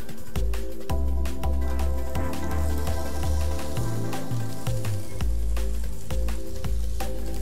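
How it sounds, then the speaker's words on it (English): Chopped onions sizzling and frying in hot avocado oil in a pan, a steady dense crackle running throughout with bursts of popping spatter, close and fairly loud, no talking. "Once that's hot, we're gonna go in with the onions."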